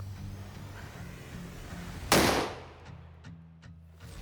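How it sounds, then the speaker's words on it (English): A 12 gauge shotgun fires a 1-ounce lead slug through drywall, one loud close blast followed by a decaying echo and a few faint ticks afterward. "All right, so now I'm going to shoot the wall."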